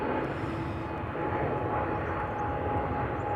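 Emirates flight 146 to Dubai climbs out from Amsterdam Schiphol after takeoff, a steady, strong jet engine roar with a faint tonal whine, heard alone without voices.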